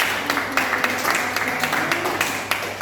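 Scattered clapping from a high school class rings out in quick irregular bursts, fairly close, with murmuring in the background.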